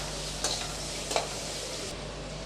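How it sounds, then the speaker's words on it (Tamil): Onions sizzling steadily in oil as they fry until reddish for vermicelli biryani, with two brief scrapes of a spoon against the pan. "வெங்காயம் ஓரளவுக்கு நல்லா செவந்து வரட்டும்"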